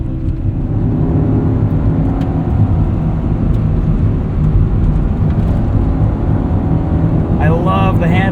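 A 1995 Honda Civic Si with its D16 engine drones steadily from inside the cabin while driving, a low continuous hum and road rumble with no clear revving, and a voice comes in briefly near the end.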